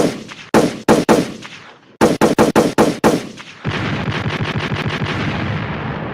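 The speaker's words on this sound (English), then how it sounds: "I need some gunshots." Gunshot sound effects played on a podcast: a few loud, sharp single shots, a short pause, then a quick burst of shots, followed by sustained rapid automatic fire that runs to the end with no talking.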